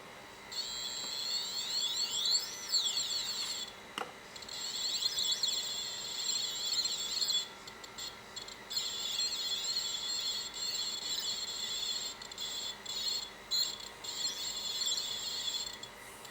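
Electronic tone from an ESP32 driven by a GP2Y0A41SK0F short-range infrared proximity sensor, a thin shrill whine that sweeps and wavers in pitch, starting and stopping in bursts with brief gaps, fairly faint and with no voices.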